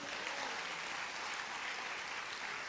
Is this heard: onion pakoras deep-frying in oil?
no